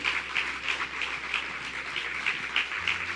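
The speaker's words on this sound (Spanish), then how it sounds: "Fuerte el aplauso." Congregation applause in a church service, fairly faint clapping with a loose rhythmic pulse, as if the crowd claps together in time, over a low steady hum.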